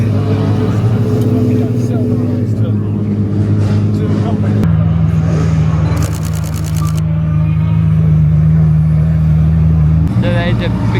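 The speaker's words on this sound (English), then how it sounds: "So there's a Bugatti Veyron rolling out." Bugatti Veyron hypercar rolling out at a hypercar gathering, a loud steady engine drone with a deeper note shift midway, surrounded by crowd chatter and camera shutter bursts.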